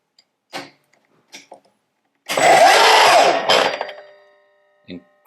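A Milwaukee M18 Fuel 12-inch bevel sliding compound mitre saw whirs up loudly for about a second, then its electric brake stops the blade almost instantly, with a few clicks and handling knocks before and after.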